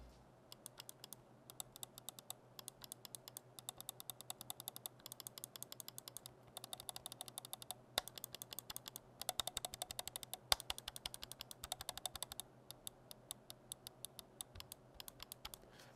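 Button clicks of a Risophy tri-mode gaming mouse: a long run of rapid, crisp, close-miked clicks in quick irregular bursts with short pauses, fairly quiet and with no talking.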